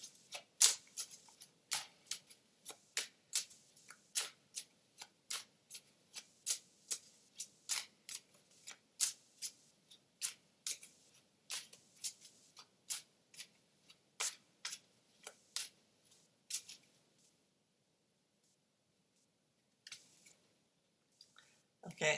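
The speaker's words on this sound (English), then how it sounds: "I'm going to draw some more cards for you here in pile 1." Tarot cards are shuffled and handled in a steady series of crisp, close snaps and flicks, thinning to a few taps near the end.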